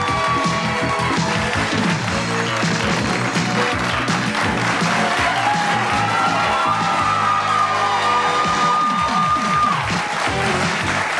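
A studio audience at a Hoosier Millionaire game show taping applauds and cheers continuously and loudly, with whoops over dense clapping and music playing underneath throughout.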